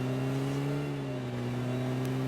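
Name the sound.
car driving in video game PUBG Mobile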